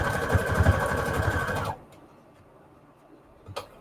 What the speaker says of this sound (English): I am just going to straight stitch a little bit so it doesn't puff out